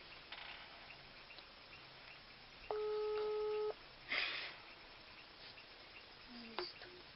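A telephone call ringing on a phone line, a single flat, steady electronic tone lasting about a second, close and clear over a quiet background, with a few brief clicks around it.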